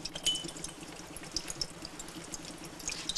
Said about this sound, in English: then into water to wash off the acid